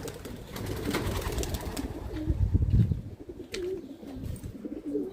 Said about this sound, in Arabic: هاي الزواجل